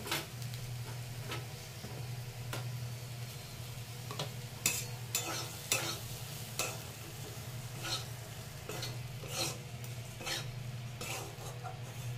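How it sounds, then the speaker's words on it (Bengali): Oats frying in a pan for vegetable oats khichuri, with a steady low sizzle and scattered clicks and scrapes of stirring utensils against the pan, close and continuous with no talk. "ওটসগুলোকে দিয়ে আর একটু ভেজে নেব"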